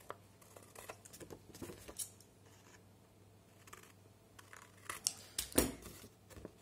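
Scissors snipping the corners of paper for a scrapbook explosion box, a series of small quiet cuts and rustles close up, with a louder paper crinkle near the end.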